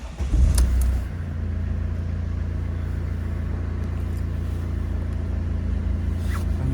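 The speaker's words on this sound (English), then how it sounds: "We'll just start the car up for you" A Mercedes SLK's engine turns over and settles into a steady, low idle rumble that carries on close by, with no one talking.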